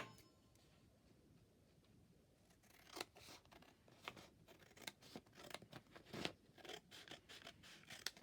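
Scissors snip and trim old paper for journal ephemera, a run of crisp, close cutting clicks and scrapes following a quiet start, with no talking.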